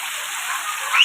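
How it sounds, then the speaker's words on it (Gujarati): A brief, steady hiss of rain falls, a dense wash of fine patter with no voices. "જોઈ રહ્યા છો અમારા ગામમાં વરસાદ પડી રહ્યો છે"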